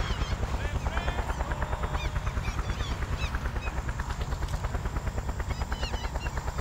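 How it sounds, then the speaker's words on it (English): A helicopter follows the player in the video game Just Cause. Its rotor throbs loud and steady the whole time, and people talk over it. "Like, this helicopter is following me through the whole game."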